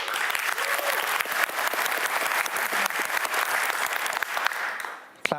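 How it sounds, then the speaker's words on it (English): A live conference audience applauds steadily for several seconds, dense and continuous clapping that fades out near the end. "Claps for live."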